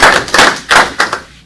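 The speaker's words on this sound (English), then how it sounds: "we actually should give it a round of applause to staff." A round of applause at an LNAA Board of Governors meeting, a group clapping together in a room: loud, dense clapping that swells in several quick waves over a second and a half, with no talk over it.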